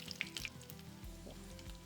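Seafood cutlets frying in hot coconut oil on a stove, a quiet sizzle with small crackles and pops, close and soft, with faint tonal background sound.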